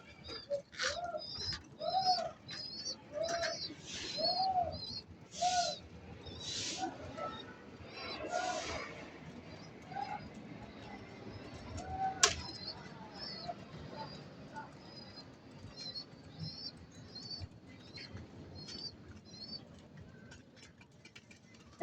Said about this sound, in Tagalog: Ayan mga kaibon